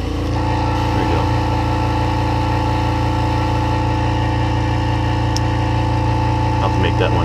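Air compressor driving an airbrush while a frog-pattern topwater fishing lure is custom painted, a steady loud mechanical drone with a constant engine-like hum running unbroken throughout.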